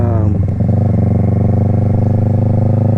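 A 2020 Yamaha R3 motorcycle fitted with an M4 Street Slayer exhaust idles close by, giving a loud, steady, throbbing rumble after a short blip of the throttle at the start.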